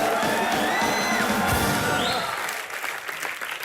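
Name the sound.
audience applause and cheering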